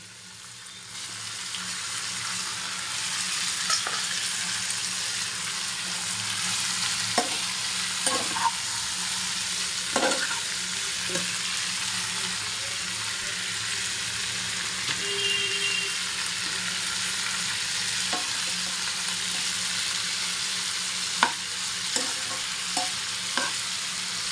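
Prawns fry in a hot pan with taro stolons (kochur loti) for a Bengali prawn bhuna, giving a steady close sizzle with intermittent scraping clicks from stirring.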